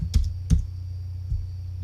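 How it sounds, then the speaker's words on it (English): Typing on a computer keyboard: three separate keystroke clicks, two close together near the start and a softer one later, over a faint steady hum. "And if we type new genuine,"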